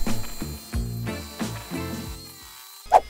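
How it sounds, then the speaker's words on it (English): A jigsaw cuts into a thick walnut board for an oversized serving tray, its motor buzzing in short, choppy bursts up close, ending with a sharp knock. "I eventually decided that removing some material with the jigsaw was a good idea"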